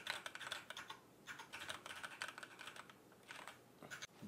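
Quiet, steady clattering of keystrokes on an ErgoDox EZ split ergonomic keyboard, with short bursts and pauses, close up and without talk.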